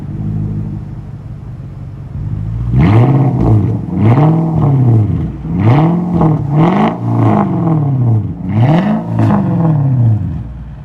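A 2008 Infiniti M45 S with straight-pipe dual exhaust and an X-pipe revs repeatedly from the inside of the car, with about five loud deep surges rising and falling over a steady rumbling idle.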